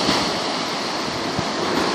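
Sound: sea waves on a beach

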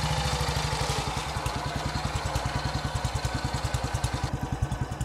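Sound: BSA WM20 motorcycle engine running

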